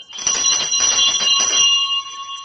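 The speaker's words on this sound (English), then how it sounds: "Terrible noise this bell makes." Old fire station alarm bell ringing loudly and continuously for a couple of seconds, a harsh metallic clang with steady ringing overtones, heard alone with no talk.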